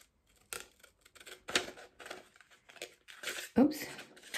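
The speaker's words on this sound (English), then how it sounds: "come on, these are just paper scissors." Paper scissors snip through a paper sewing pattern drafted from a Lutterloh system, in short, close cuts and crisp rustles in an uneven rhythm, with pauses between.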